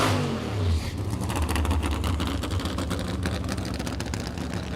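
A drag racing Funny Car engine roars loudly and continuously on a run, a dense rasping blast that swells at the start and holds steady.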